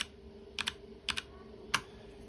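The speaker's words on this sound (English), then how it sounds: "if I use the arrow keys at the same time that I am drawing it" Computer keyboard arrow keys pressed while drawing in a digital art program: five close, crisp clicks in two quick pairs and a single final tap, over quiet room hum.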